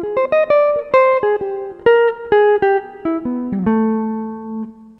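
A jazz guitar lick taken from a solo, played alone as a quick run of clean picked single notes that moves downward and settles on a longer final note.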